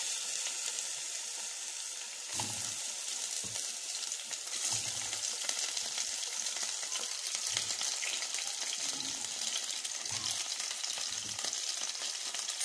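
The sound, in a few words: meat frying in ghee in a pot on the gas stove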